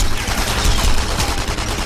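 Machine gun fire in the video game Enemy Front rattles in rapid, dense bursts, loud and close, sustained over the whole stretch with no pause.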